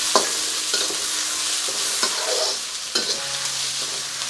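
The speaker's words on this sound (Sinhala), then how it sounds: "ඊළඟට අපි සුදු ලුණු ටික එකතු කරන ගමන් මේ විදිහට කලවම් කරගන්න." Garlic is stirred into a frying octopus devilled mixture, a loud, dense sizzle running throughout with a few soft knocks from the stirring utensil.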